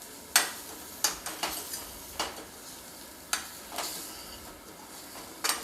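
Spices being stirred in a pan for lauki chana dal sabzi, a run of sharp scraping strokes at irregular intervals over a soft sizzling hiss, close and alone.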